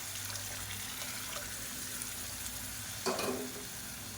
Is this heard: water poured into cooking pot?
yes